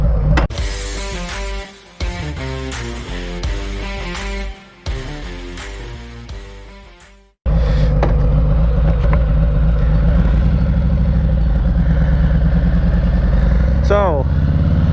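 A motorcycle setting off on a ride, its engine revving loud and close through choppy shifts for several seconds, then settling into a steady, strong roar with wind.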